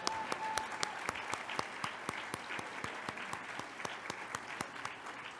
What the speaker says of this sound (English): I'm going to stop and give a round of applause right now.